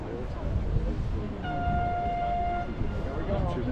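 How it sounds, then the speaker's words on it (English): A single steady horn blast signalling two minutes before a sailing race start, sounding for about a second and a half at moderate distance over ambient outdoor noise and wind. "2 minutes before their race, they will get a horn sound"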